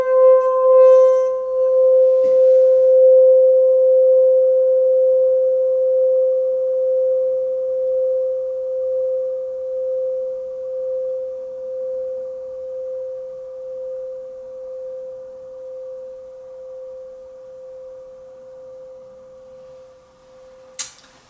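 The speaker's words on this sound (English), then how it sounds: "are we ready for the singing bowl?" A struck singing bowl rings with a bright attack and then a long, pure sustained tone that slowly wavers and decays over about twenty seconds, followed by a brief knock at the end.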